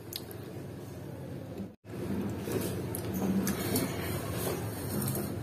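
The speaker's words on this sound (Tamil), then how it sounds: "மிக்ஸில போட்டு இப்ப நான் இத வந்து திருப்பியும் விட்டு விட்டு நான் ரன் பண்ணி கொண்டு வரேன்" A kitchen mixer grinder powders boondi for motichur laddu with a steady, rough whirring that briefly cuts out and then restarts.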